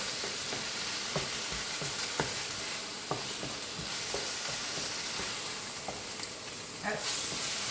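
Filet mignon cooking in a pan, a dense steady sizzle and hiss holding throughout, punctuated by light periodic pops and taps, fairly close and uninterrupted by voices.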